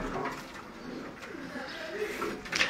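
Soft, low cooing from domestic flying pigeons kept by a pigeon fancier, repeated under nearby talking voices.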